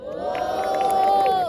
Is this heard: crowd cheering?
yes